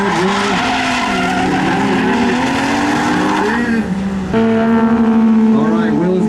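Nismo 370Z drifting in a competition battle, with long continuous tire squeal and a loud, wailing engine note that shifts in pitch as it grabs the e-brake and gets back on the throttle, close and sustained throughout.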